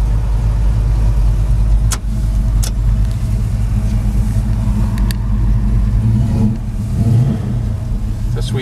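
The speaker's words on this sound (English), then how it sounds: "Sweet motor." A 1965 Plymouth Belvedere convertible's 440 V8 with a four-speed rumbles loudly and revs up and down on a test drive, deep and close throughout.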